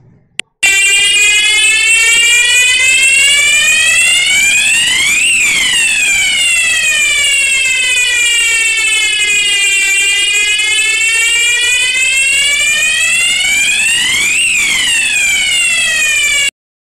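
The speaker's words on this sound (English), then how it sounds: "This fire alarm sound like this." A loud electronic fire alarm siren wails continuously, its pitch sweeping slowly up and down in long repeating cycles, close and steady for about sixteen seconds with no speech.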